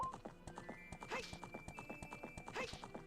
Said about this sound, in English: They really did make Epona the prettiest horse